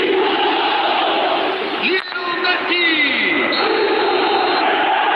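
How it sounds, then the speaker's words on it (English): Stadium crowd in the football video game eFootball roars and applauds in a dense, continuous wash of cheering, with a brief dip partway through before the noise swells again. "Even some of the opposing fans are clapping that."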